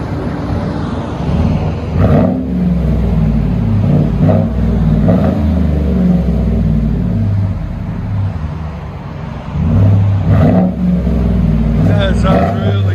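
A GMC Sierra 5.3L V8 with a new muffler idles with a deep, rumbling exhaust, then revs up in several loud, close bursts that drop back to idle between them.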